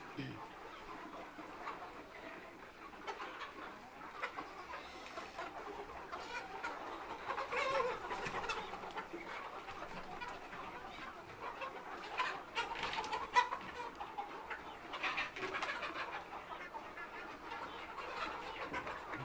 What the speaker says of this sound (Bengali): আমাদের পাশের রুমেও বেশ মুরগি আছে।